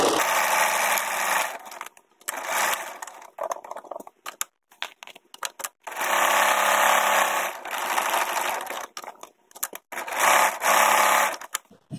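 Sewing machine stitching the second side of a clear window fabric mask, running in several bursts of steady whirring separated by short pauses, close and fairly loud with no talk.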